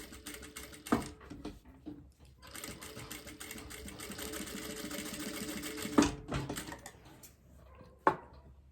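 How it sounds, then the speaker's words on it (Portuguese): Sewing machine running in a steady stretch of stitching along the edge of fabric for a phone holder, with short pauses and a few sharp clicks between bursts, close and moderately loud. "E vou vir com bastante cautela, costurando bem na beiradinha, só pra fazer esse acabamento."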